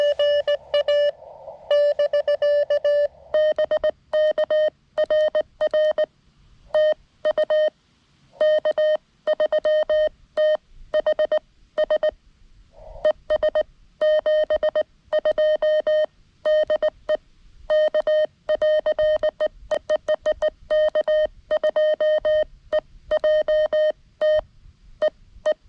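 Morse code sent on a lightweight QRP radio key during a portable field activation, heard as a steady single-pitched tone keyed in short and long bursts with brief gaps, loud and continuous throughout with no talking.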